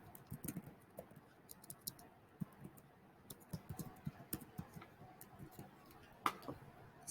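Typing on a computer keyboard: quiet, irregular bursts of crisp key clicks recorded up close in a calm room, with brief pauses between runs of keystrokes.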